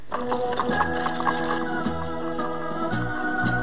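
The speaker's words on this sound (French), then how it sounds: "Allez, au galop, à Liboron." Horse hooves gallop while the horse pulls a cart, heard as quick rhythmic clip-clop beats under a loud tonal music score with sustained notes.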